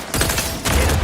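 Rapid automatic gunfire from a weapon in the video game Outer Worlds 2, a dense fusillade of close, loud shots running continuously through the short burst.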